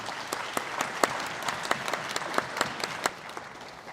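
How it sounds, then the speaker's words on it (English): A commencement audience applauds its school of public health leadership with a moderate, somewhat distant round of clapping, individual sharp claps standing out from the steady patter. "Let's give our leadership a round of applause."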